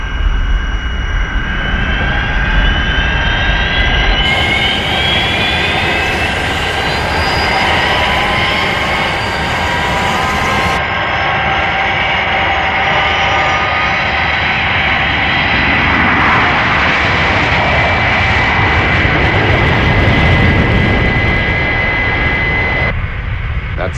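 Fireflash aircraft engines roaring at takeoff, a loud sustained jet roar with rising and falling whining tones that swell and shift over the length of the sound, with no talking.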